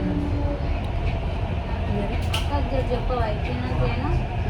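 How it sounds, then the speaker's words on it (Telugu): Steady rumbling drone inside a moving Hyderabad metro train, continuous low mechanical noise with faint squeals and distant chatter. "మేము ఇప్పుడు మెట్రోలో ఉన్నాం."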